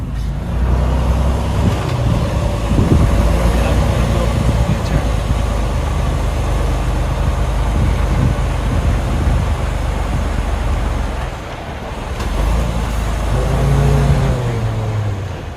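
A 53-foot semi truck rumbles steadily through a U-turn, its diesel engine droning loud and close throughout, easing briefly near the end before picking back up, with a faint hiss of air brakes.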